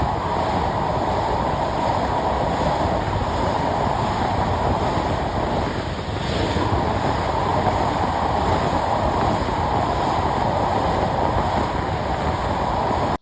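The Sundarban Express, an intercity train between Khulna and Dhaka, crosses the Padma Bridge at night with a loud, steady rumble and rushing wind noise that holds throughout.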